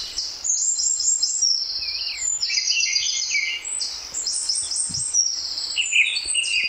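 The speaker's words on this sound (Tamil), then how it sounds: "குருவிகள்லாம் எப்படி அழகா கத்துதுன்னு பாத்துருப்பீங்க" Sparrows chirp and twitter continuously near a tea estate in a quiet hill setting, the bright overlapping calls steady and fairly close throughout, with no voices.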